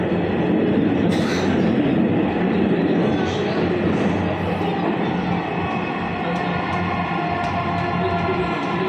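A Dhaka metro rail train runs steadily with a continuous rumbling roar and rolling wheel noise heard from inside the car, loud throughout with a few brief sharp clicks.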